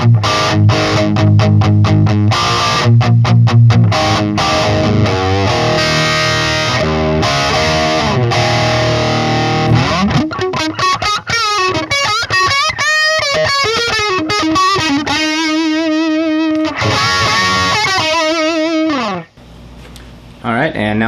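An electric guitar plays through a tube amp alone, heavily distorted to a crunchy hard-rock grit: fast strummed chords at first, then sustained bent lead notes ringing loud and continuous.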